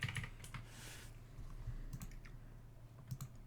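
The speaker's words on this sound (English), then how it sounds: "I just type it in with my meat hands." Computer keyboard typing, a steady run of quick clacking keystrokes over low background hum, no voices.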